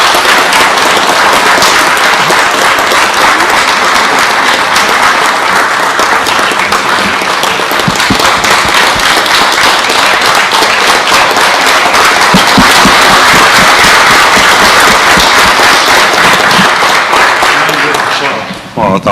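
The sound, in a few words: applause for the police chief and force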